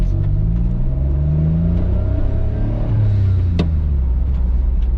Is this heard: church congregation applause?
no